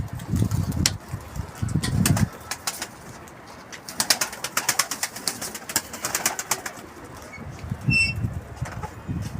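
Pigeons cooing in low throaty bursts, with wing flaps and light scraping or pecking sounds close by in a busy loft.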